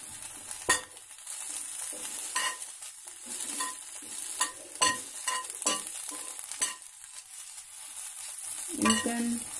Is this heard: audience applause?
no